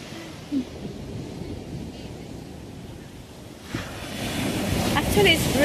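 Ocean surf washes onto Dinadiawan beach under gusty wind buffeting the microphone in drizzly weather. The roar of the waves grows louder toward the end.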